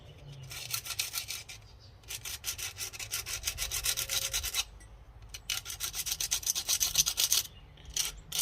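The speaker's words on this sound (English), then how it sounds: "Let's sand this cap a little bit." An engine distributor cap on an abandoned vehicle gets sanded by hand, with quiet close rasping strokes in two rapid bursts separated by a short pause.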